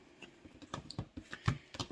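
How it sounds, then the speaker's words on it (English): Deck of tarot cards being shuffled by hand, a quiet run of soft irregular riffles and flicks with small snapping clicks, close up and faint, no talking. "I'm having a hard time shuffling these."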